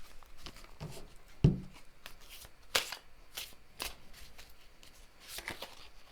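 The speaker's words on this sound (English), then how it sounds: "Let's draw more cards." Tarot cards being shuffled and drawn, a soft flurry of riffling and slapping card sounds with a few sharper snaps, close and fairly quiet with no talk.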